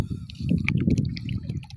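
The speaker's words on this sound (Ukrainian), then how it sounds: "додаємо у відро з водою. Ми колотимо," Fertilizer solution is stirred into a bucket of water, giving a steady low sloshing and swirling with scattered small drips and splashes throughout, close and fairly loud.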